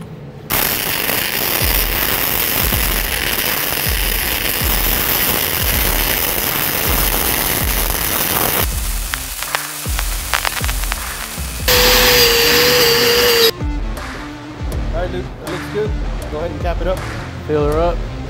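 Flux-core welding on plate with no shielding gas, a loud continuous crackling sizzle that runs for many seconds and shifts in tone partway through, with talk in the background.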